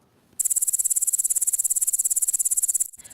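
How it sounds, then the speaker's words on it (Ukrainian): A grasshopper chirps alone in a rapid, steady pulsed buzz lasting about two and a half seconds, loud and close, then stops abruptly. "Дуже високо стрибає, над квітками, мов літає, зелененький молодець, зветься коник-стрибунець."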